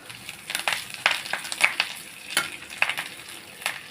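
Curry leaves and puffed rice frying together in a pan for a Bengali muri bhaja snack, with a steady sizzle broken by sharp crackles and pops and the scrape of stirring, up close.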